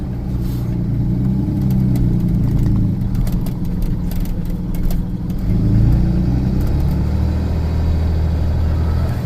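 A truck with a small Cummins engine driving on the highway, its steady low engine drone and road rumble continuous and fairly loud throughout with no talking.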